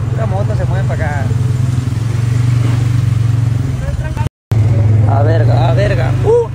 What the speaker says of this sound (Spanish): Una moto se mueve para acá.